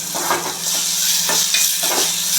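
Cauliflower curry sizzles in a pan in a village kitchen while being stirred, steady frying hiss with three or four distinct scraping stir strokes, close and loud.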